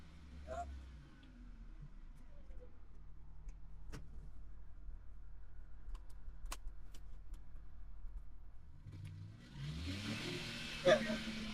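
A CFMOTO U10 UTV fitted with soundproofing runs in low gear at roughly 3,200 to 3,700 rpm, giving a faint, steady, muffled engine drone, with a brief voice and a louder rustle near the end.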